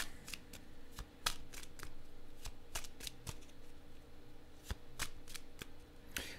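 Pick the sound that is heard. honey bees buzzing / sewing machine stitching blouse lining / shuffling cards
shuffling cards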